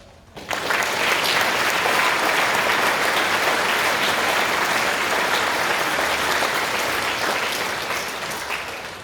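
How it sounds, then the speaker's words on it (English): A crowd at a Catholic school Veterans Day celebration breaks into sustained, loud applause that starts abruptly and continues steadily, tapering slightly toward the end. "Lieutenant Colonel Denson, deserves a round of applause from all the veterans for what they've done for us"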